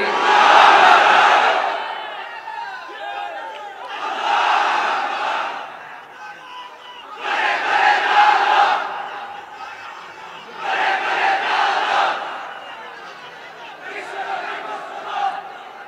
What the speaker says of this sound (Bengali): তাকবীর পড়েন তো দেখি